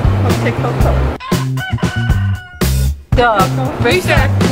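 A rooster crows over a busy mix of other animal sounds, with people talking around it in an interview setting; the crow is loud and close.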